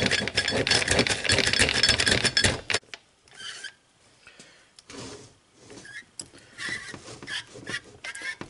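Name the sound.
one-way sprag clutch turning in 4L80E transmission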